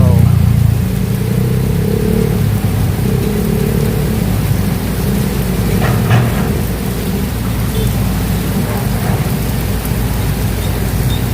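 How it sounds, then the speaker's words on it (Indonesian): Heavy rain pours steadily over Kali Baru in Tambun, Bekasi, a dense, continuous roar of falling water that stays loud throughout with no voices over it. "Dimana hujannya makin deras di sini."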